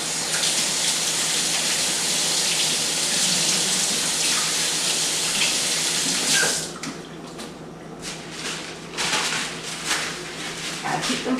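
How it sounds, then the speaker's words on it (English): A kitchen tap runs in a steady, loud hiss of water while hands are washed, then the flow cuts off and leaves a few splashes and wet rubbing sounds. "Okay, you know I got to wash my hands."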